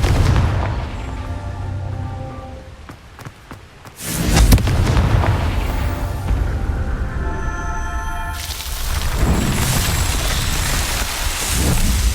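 A Confringo spell blast in Hogwarts Legacy: a rumbling game soundscape gives way to a sudden loud booming explosion around the middle, followed by a sustained roaring, crackling wash with layered tonal effects.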